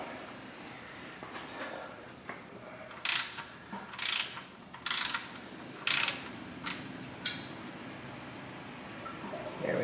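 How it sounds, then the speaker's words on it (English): Ratchet loosening the oil pan drain bolt on a Toyota Highlander, several short bursts of quick clicking ratcheting separated by pauses, close and fairly quiet. "the first thing we need to do is remove the oil pan drain bolt"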